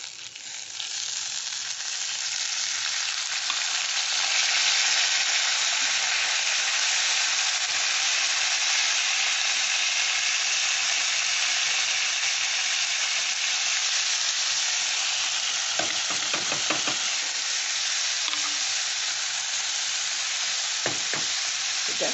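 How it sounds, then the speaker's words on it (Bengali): Drained rice with raisins fries in a pan, giving a loud, continuous sizzling hiss with scraping stirring strokes near the end, heard close up without speech. "ভালো করে ভেজে নিতে হবে পাঁচ সাত মিনিট ভালো পাঁচ মিনিট মতো ভাজতে হবে"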